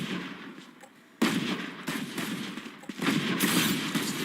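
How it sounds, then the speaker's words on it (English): Sheriff pistol shots in Valorant during a Pacific grand final esports match, a few sharp cracks with abrupt onsets scattered over a busy background of game ambience and other fire, no talk. "A couple stray sheriff shots, trying to see any kind of random hit that they can get"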